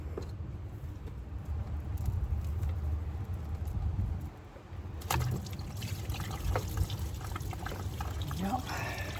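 Coolant drains out of a 2012-2019 BMW 320i into a bucket below during thermostat work, giving a continuous splashing, trickling pour with a faint voice in the background.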